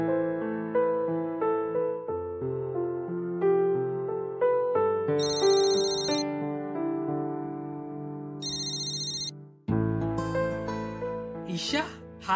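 A mobile phone plays a melodic ringtone for an incoming call. The tune repeats loudly and clearly for several seconds, with a brief voice near the end.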